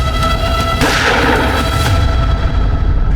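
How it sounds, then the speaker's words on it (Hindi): A single loud gunshot rings out in a Hindi TV crime drama, a sharp blast followed by a lingering boom that decays over a couple of seconds, with no talk over it. "गोली मारी"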